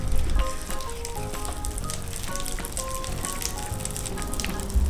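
Popping candy crackles and sizzles continuously in a frying pan, a dense fizzing patter like eggs frying, close and steady throughout with no talking.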